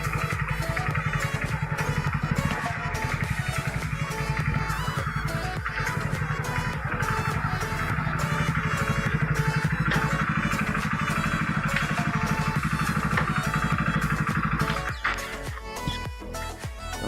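A motorcycle engine idles after a service with a close, rhythmic pulsing that runs steadily, then falters and drops away near the end.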